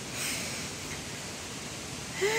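A brook flows beside a campsite, giving a soft, steady rush of water that stays faint and even throughout, with a small high chirp near the end.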